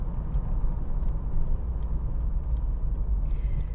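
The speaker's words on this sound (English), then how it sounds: "I'm thoroughly enjoying just pootling around the place in this car" Mk3 Ford Granada driving at gentle speed, a steady low road and engine rumble heard from inside the car with faint ticks and light rattles over it.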